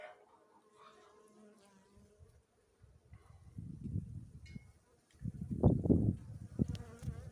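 Bees buzzing close by on a hive frame in a dense, rising swarm hum that grows louder and busier toward the end, with no voices.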